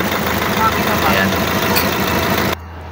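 An Isuzu 4BE1 Eagle diesel engine from an ELF truck with a coolant overheating fault idles loudly and steadily up close, its low throbbing drone continuing evenly before dropping off abruptly near the end.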